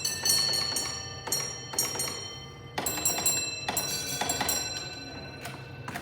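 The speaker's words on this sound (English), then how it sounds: "We're signalling this train forward with the Isline Clear Bell signal" A railway signal bell on a Lancashire and Yorkshire Railway training layout rings the Is Line Clear code 3-1-2 for an electric stopping passenger train: close, bright metallic strikes in a grouped pattern with ringing decay.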